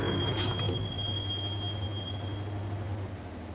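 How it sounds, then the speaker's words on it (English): A subway train ride in the Max Payne video game, with a steady rumble of the train running on the rails, a thin high wheel squeal along the track, and clatter early on before the noise eases off. "the train doors had already shut behind me, and I was in for the ride"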